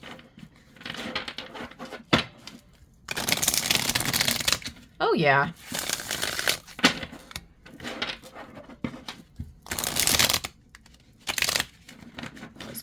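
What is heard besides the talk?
shuffling a tarot card deck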